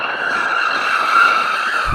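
BMW M2 tyres skidding in a drift, giving a loud, sustained, steady squeal close by that continues unbroken throughout.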